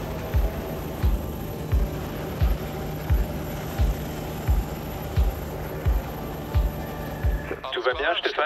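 Rhythmic heavy thumping of a mountain rescue helicopter's rotor blades beats about once and a half per second under steady engine whine as it lands near Zermatt, then cuts to a short burst of speech.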